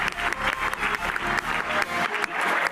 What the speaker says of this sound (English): Big round of applause to our panel